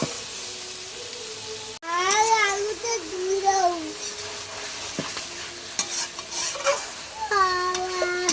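Meat sautéed and stirred in a pan, a soft continuous sizzle under close talk, with occasional scrapes and clinks of a spoon against the pan and a voice in the background.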